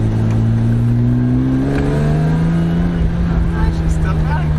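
A BMW E34 M5 drives along with its engine humming and gently rising in pitch, heard from inside the car and close and loud throughout.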